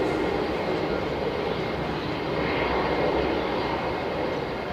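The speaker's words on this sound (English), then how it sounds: "We've got here another Jetstar 320" Jetstar Airbus A320 airliner landing at Melbourne Airport, its engines a steady, loud, broad roar that holds evenly throughout with no pauses, heard alone without talk.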